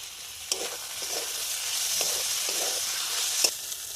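Tomatoes, ground coriander, turmeric, salt and a little sugar fry in a hot pan, a continuous moderate sizzle broken by several soft scraping stirs.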